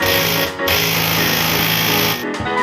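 Swing arm bolt on an 1980s Suzuki TS50X two-stroke dirt bike being spun out, a loud continuous mechanical whirring of a power tool with two brief dips, close up.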